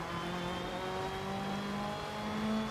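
A Ford Fiesta rally car's engine from the BeamNG video game on a wet rally stage, droning steadily with a slowly rising pitch, close and continuous with no talk.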